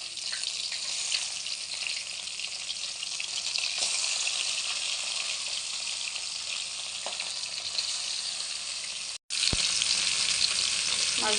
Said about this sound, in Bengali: মাছগুলো একটু হালকা করে ভেজে নেব।